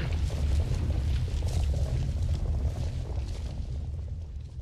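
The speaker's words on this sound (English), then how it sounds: "So that's the explosion" An explosion in The Raven: Legacy of a Master Thief video game rolls out as a loud, sustained low rumble that slowly fades over several seconds.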